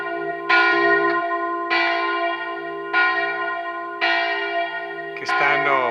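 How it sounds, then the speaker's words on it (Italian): Church bells ring in Braulins, a village of Trasaghis, with four slow, loud strokes that each hang and decay, followed by a final clang and a short jangling burst before the ringing fades out. "le campane"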